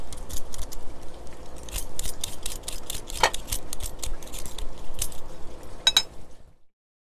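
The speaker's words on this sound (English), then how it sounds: "I'm gonna peel away." A regular old-fashioned peeler scraping Oregon grape root, a series of close, sharp scrapes and clicks in uneven rhythm that stop abruptly near the end.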